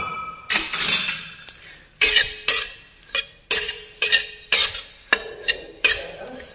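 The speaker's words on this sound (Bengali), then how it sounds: "কড়াইটা দেখো আমার গরম হয়ে গেছে, আমি এটা হালকা করে রোস্ট করে নেবো।" Dry ingredients roasting in a hot wok, stirred with a utensil that scrapes and clinks against the metal in a steady rhythm of about a dozen sharp, close strokes, with no talking.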